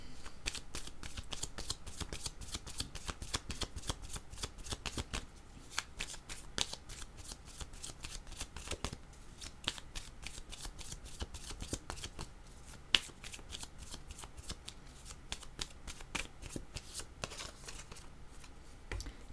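A deck of tarot cards shuffled continuously at close range, a steady run of rapid riffling clicks and soft card slaps with one sharper snap partway through, no voices.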